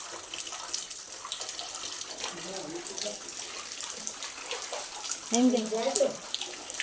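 Water runs from a tap into containers being filled for drinking on a farm on a rainy day, a steady splashing flow with voices talking over it and a gurgling rise near the end.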